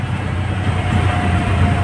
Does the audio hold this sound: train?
yes